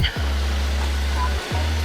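Waterfall at Khlong Nam Lai in Khlong Lan National Park, Thailand, a steady broad rush of falling water filling the whole clip, with a deep low rumble that cuts out briefly and then returns.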